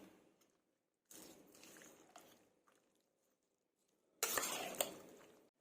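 A spoon stirs a tempering of spices fried in oil into cucumber curd rice in a pot, giving two bursts of close scraping and clinking with a quiet gap between them.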